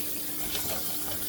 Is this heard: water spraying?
yes